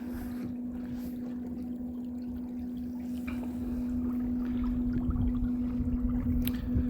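A Watersnake 70 lb electric outboard on a Sailfish 18 sailboat runs in reverse on Rutland Water, giving a steady electric motor hum under faint water wash and wind, with no one talking.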